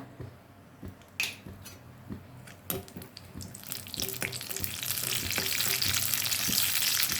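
Mustard seeds and cumin frying in hot oil, a sizzle that builds into a steady hiss with scattered pops and crackles, close and moderately loud with no talking.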